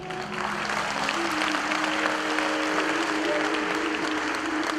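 Steady applause from an audience at a patriotic poetry evening for martyrs, many hands clapping in a continuous even wash, with a faint sustained tone and light crowd murmur underneath.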